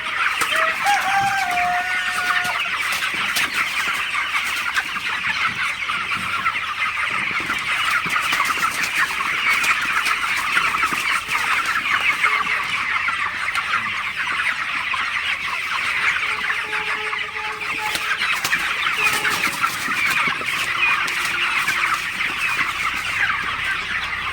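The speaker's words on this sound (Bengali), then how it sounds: "দেখতে পাচ্ছেন মুরগিগুলো পানি খাইতেছে" A crowded flock of 28-day-old broiler chickens clucks and chirps continuously while drinking fresh water, a dense, steady chatter that stays loud for the whole stretch.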